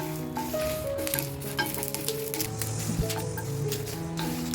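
Dried red chillies roast in a little oil in a pan, giving a continuous soft sizzle and crackle with occasional scraping, close and steady for a few seconds.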